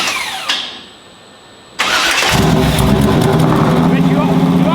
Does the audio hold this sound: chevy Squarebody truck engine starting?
yes